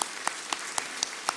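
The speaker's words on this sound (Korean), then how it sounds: "이 모든 사역을 이끄신 하나님께 영광의 박수 올려드리겠습니다." Church congregation clapping during a Sunday worship service, heard as a faint, sparse run of separate claps spaced fairly evenly rather than a full ovation.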